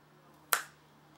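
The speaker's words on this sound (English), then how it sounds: "Looking for finger snaps" A single sharp finger snap, close and crisp, rising from near silence with a quick decay, over a faint steady electrical hum.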